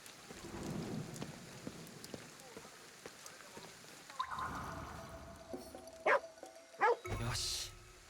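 A dog barks twice in quick succession in the video game Ghostwire: Tokyo, set against a rainy thunderstorm backdrop with a low rumble building near the end.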